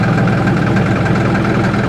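A tractor engine idles steadily nearby at a food plot during planting, giving a continuous low rumble with slight knocking vibration and no talk over it.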